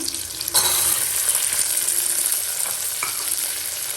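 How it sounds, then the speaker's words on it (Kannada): Hyacinth beans sizzle in hot oil with onions in a pan, a steady bright frying hiss with stirring scrapes, louder after the beans drop in, no voices. "ಅದರಲ್ಲಿ ಚೆನ್ನಾಗಿ ಎಣ್ಣೆಯಲ್ಲಿ ಫ್ರೈ ಮಾಡ್ಕೊಳ್ಳೋಣ ಚೆನ್ನಾಗಿ"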